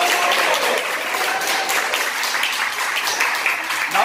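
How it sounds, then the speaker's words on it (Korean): Lecture audience applauding, a dense and loud burst of many hands clapping that holds steady throughout, with no talk over it. "박수."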